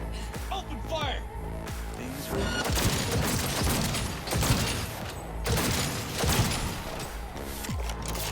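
Sustained gunfire from a firefight in Cyberpunk 2077, dense rapid bursts and booms layered with mechanical clatter, loud and continuous, with a voice talking over the shooting.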